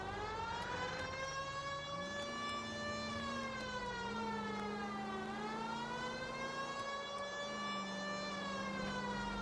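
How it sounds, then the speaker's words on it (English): A police siren in L.A. Noire wails steadily and continuously, rising and falling in pitch, fairly faint, with no voices. "we're cops. We can drive with a siren on."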